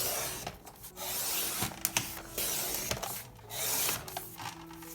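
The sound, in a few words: paper trimmer cutting printable envelope pieces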